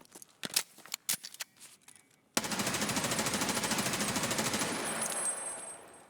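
M4 rifle in a video game firing a sustained fully automatic burst, a rapid even rattle of shots that starts abruptly after a few scattered clicks and handling noises.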